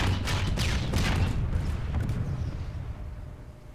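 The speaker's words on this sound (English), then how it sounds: "It fires 40mm grenades, which do damage to both armor and infantry." Grenade blasts from the M40 Fury 40mm launcher in Planetside 2: a dense run of booming explosions with crackling bursts, loud at first and slowly fading into a rumbling tail.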